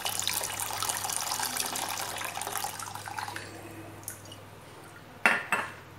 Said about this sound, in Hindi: इसके अंदर मैं पानी डालूंगी।